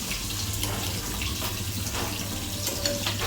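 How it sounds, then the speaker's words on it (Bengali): A small amount of water pours into a pot of mixed vegetables, making a brief, close splashing trickle over a low background hum. "সামান্য একটু পানি দিয়ে দেব, দিয়ে এটা ঢেকে দেব।"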